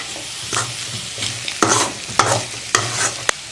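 Carrot stir-fry with grated coconut and coriander sizzles in a pan while being stirred, with repeated scraping strokes over a steady frying hiss, close and fairly loud, no voices.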